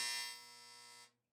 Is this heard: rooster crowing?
no